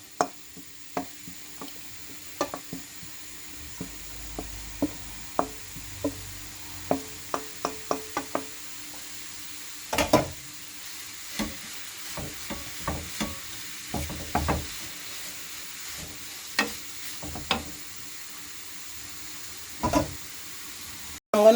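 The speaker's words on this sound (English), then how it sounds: "that is the carrots. Goes in the fry pan." Carrots fry in a pan alongside chicken breasts under a low, quiet sizzle, broken by frequent sharp scrapes and knocks of a utensil stirring against the pan at an irregular pace.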